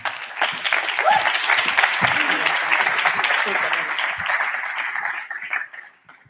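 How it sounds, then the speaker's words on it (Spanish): Audience applause fills a talk hall at a BCNspiracy science event as neuroscientist Constantina Theofanopoulou is welcomed, a dense sustained clapping that holds steady for about five seconds before tapering off near the end. "Así que, por favor, Constantina, un fuerte aplauso."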